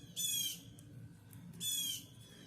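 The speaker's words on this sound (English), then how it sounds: "I wish these birds would shut up" Two loud, harsh bird squawks ring out outdoors, each lasting about half a second and spaced roughly a second apart, with no voices over them.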